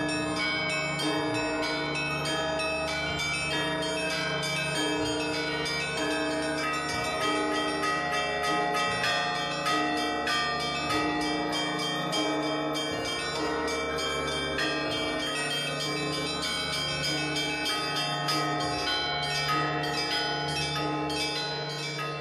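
Church bells ring continuously, layered strikes overlapping into a rich sustained peal of resonant tones with steady rhythm throughout, with no speech.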